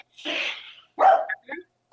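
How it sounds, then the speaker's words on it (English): A dog barks in the background of a remote city council meeting, several short barks with pauses, fairly near and clear, with no talk over them. "Sue, that's your dog in the background. I recognize the bark"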